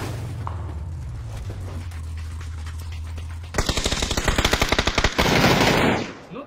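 Rapid automatic gunfire from a weapon in a shooter video game, a loud burst of closely spaced shots lasting a couple of seconds, followed by a dense blast of noise, after a quieter stretch of low humming game ambience.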